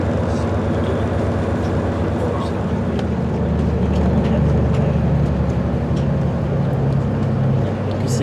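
A train pulls into Birmingham New Street station with a steady, loud low rumble and mechanical drone that holds throughout, with a few faint clicks on top.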